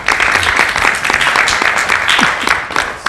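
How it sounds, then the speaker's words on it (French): Audience applause at a film press conference in Deauville: lively clapping from a modest crowd, individual claps distinct within a steady patter, fairly close and loud, with a faint voice underneath. "Si l'applaudissement est sincère,"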